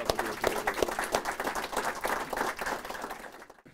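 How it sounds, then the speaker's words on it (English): A room of attendees at a city news conference in Albuquerque claps for honored guests, a brisk round of applause with distinct hand claps that tapers off and stops near the end. "Let's give these guys another round of applause"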